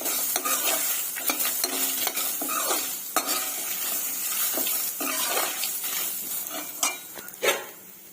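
Coconut chutney ingredients fry in a pan with steady sizzling, broken up by repeated scraping and stirring strokes of a spoon against the metal, close and clear.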